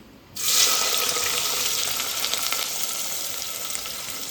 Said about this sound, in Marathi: छान कुरकुरीत होईपर्यंत कांदा आता मी तेलामध्ये परतून घेणार